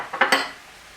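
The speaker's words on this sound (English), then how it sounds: "So you just keep stirring it up." A utensil scrapes and clinks against a pan while mushroom duxelles is stirred, two or three quick close metallic strokes in about a second.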